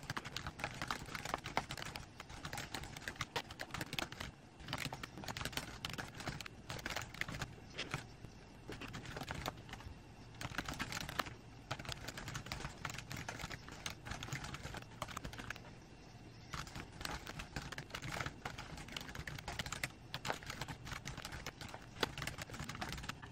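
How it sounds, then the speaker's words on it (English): Steady, faint clatter of typing on a computer keyboard runs continuously with brief pauses, close and quiet with no voices. "So I'm going to type this up and hopefully that will make it easier to follow."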